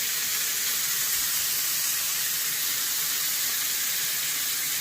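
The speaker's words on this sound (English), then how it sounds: "Fry this off on an extremely high heat." Bacon fries in a pan over extremely high heat, giving a steady, close sizzling hiss that runs unbroken throughout.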